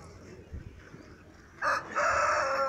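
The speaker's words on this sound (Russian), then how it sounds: "Вот такие, значит, тут куры есть." Chickens and a rooster at a poultry show in Pyatigorsk, with low murmuring background noise, then a loud nearby crow rising in the second half and holding to the end.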